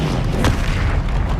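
Explosive Confringo spell cast in the video game Hogwarts Legacy: a single booming blast over a dense, rumbling game soundscape, loud and close, with no talking.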